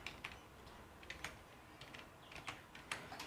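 Faint, sparse computer keyboard keystrokes tapping at an uneven pace while entering an application number and captcha on a Tamil Nadu patta transfer status web page, with quiet background and no talk.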